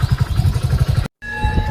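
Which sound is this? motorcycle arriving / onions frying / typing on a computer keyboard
motorcycle arriving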